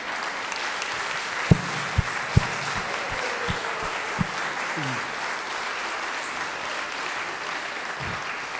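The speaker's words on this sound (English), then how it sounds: "So let's stand and give them an applause." Audience applause at the closing panel of a Friends of Sabeel North America conference, a steady broadband wash of clapping lasting throughout, with a few sharper knocks and thumps standing out near the start.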